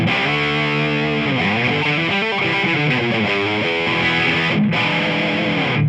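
Gibson SG through a Friedman Pink Taco Tonex tone, thick, saturated distortion with sustained chords and moving notes, loud and continuous, with one brief gap near the end.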